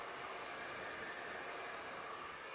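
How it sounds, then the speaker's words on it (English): A handheld blow dryer runs steadily in a barbershop, drying short hair after a classic clipper cut, with a constant airy whoosh and hum and no talking. "Even if you take the blow dryer and you just hold it like this to blow dry the front"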